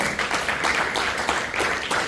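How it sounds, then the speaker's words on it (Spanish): A church congregation claps together for the Lord during a service, a dense, steady wash of many hands with a loose shared rhythm, close and continuous. "Le damos palmas al Señor, hermano"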